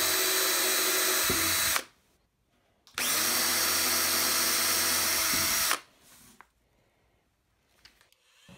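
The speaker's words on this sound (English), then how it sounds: "Drill the marks with a 3/32-inch bit." A power drill with a 3/32-inch bit bores into 1¼-inch PVC pipe in two loud, steady whining bursts of a few seconds each, separated by quiet pauses with small handling clicks.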